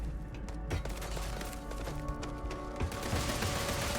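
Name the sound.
gunfire from a ship in Starfield video game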